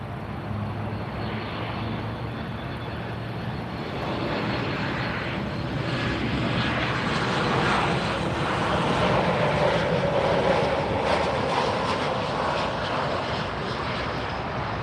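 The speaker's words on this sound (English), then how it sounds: "Next arrival, Gall 7904 737 MAX 8 arriving from Fortaleza." A Boeing 737 MAX 8 airliner on arrival and landing at Miami International Airport gives a broad, steady engine roar that swells gently in the middle and stays continuous and fairly near, with no voices.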